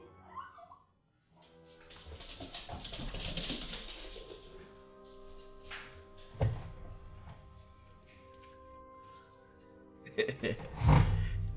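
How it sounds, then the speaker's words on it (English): Dog whining and whimpering at a door, faint and distant at first, with brief yelps and rustling, then louder bursts near the end. "I heard her whining at the door."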